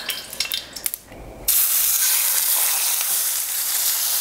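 A few soft clicks, then a sudden loud, steady sizzle as beef hits a hot pan and keeps searing.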